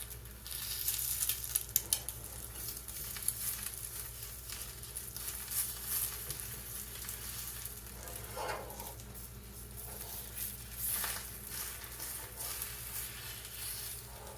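Eggs fry in a pan with the yolks intact and sticking to the bottom, a steady close sizzle and crackle with a few faint scraping touches, no talk.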